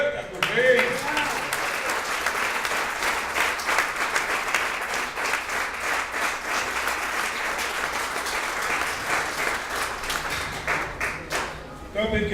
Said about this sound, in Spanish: dar un aplauso fuerte a tu rey